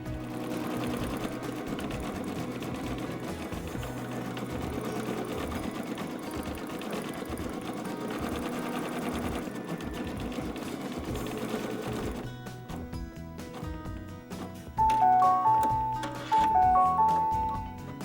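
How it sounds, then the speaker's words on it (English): An embroidery sewing machine stitches an applique placement outline on fabric held in a hoop, a steady fast mechanical whir with a rhythmic needle chatter running throughout, shifting to lighter, sparser stitching toward the end. "now when I begin stitching, I think that all of my outline designs are going to match perfectly"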